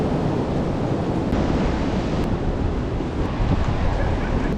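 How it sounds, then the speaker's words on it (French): Strong wind roars steadily over crashing waves, a dense, continuous rush that buffets the microphone without pause. "La dimension des vagues, tu peux voir que genre le vent est vraiment fort."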